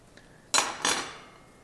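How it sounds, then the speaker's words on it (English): A metal fork clinks against a 500 ml jar twice in quick succession, bright and close, in a quiet kitchen. "A metal fork."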